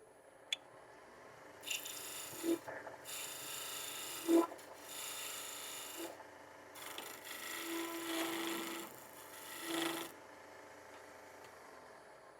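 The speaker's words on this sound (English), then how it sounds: "And this is just a peeling cut that I'm doing." Wood being turned on a lathe into a coffee cup, with a rough peeling cut taking it down to diameter: a steady rasping scrape in several bursts of a second or two, close and fairly loud, with short pauses and a few tool knocks between.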